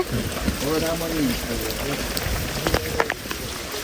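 Rain falls steadily with a constant hiss, and a voice talks over it near the start.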